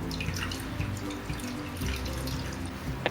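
Water splashes and trickles from a kitchen tap while fresh chhena for rasgulla is rinsed in cloth, with soft dripping and liquid movement up close at a low level.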